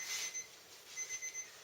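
A kitchen timer rings softly during the baking of a 1 kg sourdough loaf: a faint, high electronic beeping in short repeated pulses, heard alone in a quiet room.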